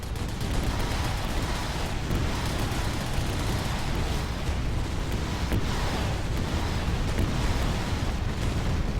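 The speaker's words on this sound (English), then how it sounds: "I'm actually using the mortar on the BDM-1." Dense battle din in the real-time strategy game Rise of the Reds, with a Russian BDM-1 firing its mortar amid continuous booming explosions and gunfire, loud and unbroken throughout.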